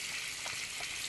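Water runs steadily from a sink faucet while hands are rinsed, a soft continuous hiss with slight splashing, faint and without talk.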